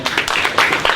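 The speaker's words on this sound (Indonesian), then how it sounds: "tepuk tangan." Audience applause from residents at a Jatibening community gathering in Bekasi, a steady burst of clapping from many hands that continues for about a second.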